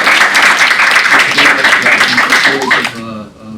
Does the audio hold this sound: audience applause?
yes